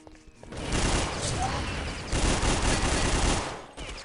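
Grenade blasts and heavy gunfire in a competitive video game match between Germany and Colombia: a dense, continuous roar of overlapping explosions and rapid shots that rises and then holds steady for several seconds, moderately loud.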